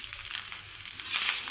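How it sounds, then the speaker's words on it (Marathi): Fried rice with soy sauce and salt stir-fries in a pan, giving a brief hissing sizzle that swells toward the end. "गरम होईपर्यंत जरा मिक्स करून घ्यायचं आहे, सोया सॉस नमक सगळं एकजीव होईपर्यंत।"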